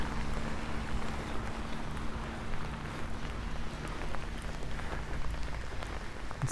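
Steady rain hisses and patters on pavement in suburban Los Angeles on a wet, windy day, an even, continuous wash with a low background hum.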